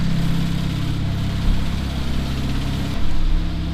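A fully built big-turbo EcoBoost Mustang engine drones steadily and fairly loud, with a slight change in pitch partway through, no voices.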